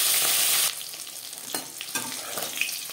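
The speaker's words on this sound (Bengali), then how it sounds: "মাছ এক পিস ভাজা হয়ে গেছে" Tilapia pieces frying in hot oil, loud sizzling at first that drops to a softer crackle with a few sharp bursts and scrapes, heard close up with no talk.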